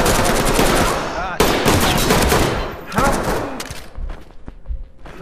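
Bursts of rapid automatic gunfire in the Ready Or Not tactical shooter game, loud close rattling volleys with short gaps, tapering into scattered single shots, with voices talking over parts of it.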